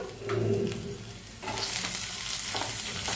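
Ginger and garlic sizzle steadily in a hot pan on high flame, a loud, continuous frying hiss that swells partway through, with faint stirring and no voices.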